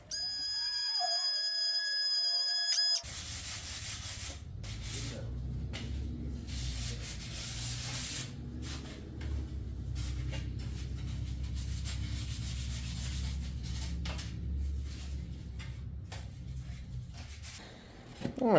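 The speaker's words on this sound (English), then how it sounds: "got the ends sanded down, filled in." Sanding filler on a Storz front fender for a Harley-Davidson XR1200, a steady rasping rub that runs continuously and close up after a brief quiet start, with no talking over it.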